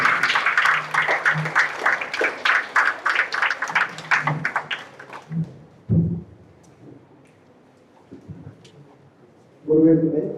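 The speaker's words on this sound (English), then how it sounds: "Let us all put our great applause together to warmly welcome our esteemed chief guest, Dr. K. Prabhakaran" An audience at a SEBI smart investor awareness guest lecture claps to welcome the chief guest, a dense patter of hands for about five seconds that thins to a few scattered claps before a voice speaks at the end.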